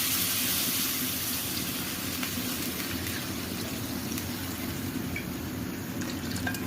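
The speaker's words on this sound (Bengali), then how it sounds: "এখন পানি অ্যাড করতেছি।" Hot water being poured into a pot of beef curry with pointed gourd, potato and green banana, a steady close rush and splash of liquid that continues evenly throughout, with no talking.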